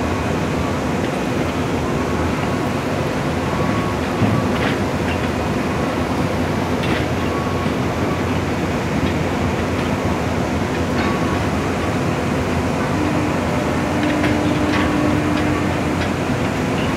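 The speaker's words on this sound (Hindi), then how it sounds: "ट्रेन इसमें मटेरियल लेकर जाएगी।" Freight train hauling material and steel coils inside Bokaro Steel Plant, heard as a steady low rumble with faint rhythmic clicks and metallic ticks throughout, no talking.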